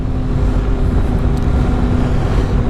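A snowmobile runs steadily along a trail in western Quebec, its engine drone loud and close throughout with wind rushing over the microphone and no voices.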